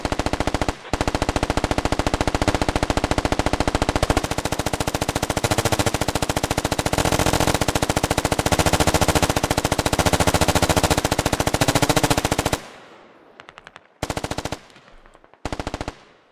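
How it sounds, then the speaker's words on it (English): In a Squad military video game, long-range support fire from assault rifles and a machine gun rattles in a dense, unbroken stream of rapid shots, then breaks off into a few short, separated bursts near the end. "there is some support fire happening at long range. A couple of ARs, maybe an MG"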